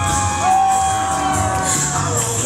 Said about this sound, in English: This capacity crowd of the Estill Street Jubilee on their feet for Playboy Scott Haynes